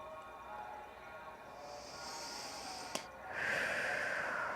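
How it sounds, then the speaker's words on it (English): A slow, deep breath drawn in and let out during a calm guided meditation, soft and close, with a faint hiss and a sharp click partway through. "Let's take a deep breath."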